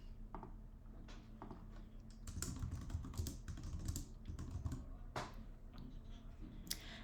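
Fingers type a comment on a computer keyboard in quick, uneven bursts of soft clicks and taps, fairly close but quiet, with short pauses between runs of keystrokes.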